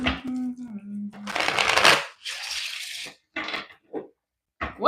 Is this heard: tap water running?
no